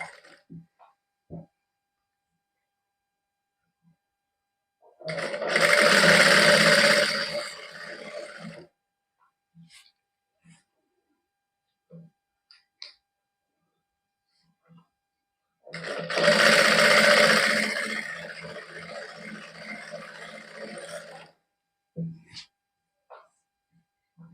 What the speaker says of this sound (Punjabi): ਇੱਕ ਲੈਸ ਇਸ ਤਰ੍ਹਾਂ ਹੌਲੀ ਹੌਲੀ ਸਿਲਾਈ ਲਾਈ ਜੀ